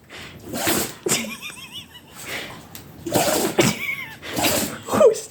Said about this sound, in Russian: Дитё чихает, а я ржу.